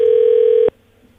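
A telephone gives a single steady tone, loud and close, that holds for well over half a second and then cuts off abruptly into near silence.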